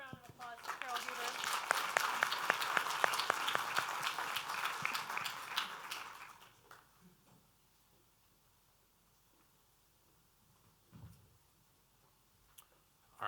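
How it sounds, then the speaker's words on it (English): Audience applause for a speaker at a sustainability summit, a burst of clear, close clapping with distinct individual claps that fades out after about six seconds into near quiet with a few faint noises. "So please give a round of applause to Carol Huber."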